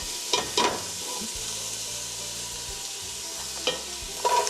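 Minced garlic and finely chopped carrots get stirred in a soup pot, a steady sizzle running under a few scraping spoon strokes, close and fairly loud, with no talking.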